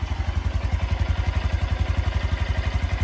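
A 2022 Honda Grom motorcycle engine idling close by after a fresh oil change, a loud, even single-cylinder putter with rapid regular pulses throughout.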